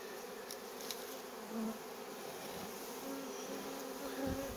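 A dense, steady buzz of honeybees rises from a hive as they are stirred up, a close continuous drone with slight swells in intensity.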